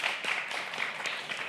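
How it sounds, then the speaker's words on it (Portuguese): An audience applauds three invited guests at a talk event, a steady wash of many hands clapping, moderately distant and even throughout, with no voices rising above it. "peço uma salva de palmas para nossas três convidadas"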